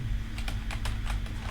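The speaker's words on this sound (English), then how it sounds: "we'll go ahead and start typing out this shell script" A computer keyboard clatters as a shell script is typed, with steady, close clicks of individual keystrokes falling in an uneven rhythm over a constant low hum, and no one speaking.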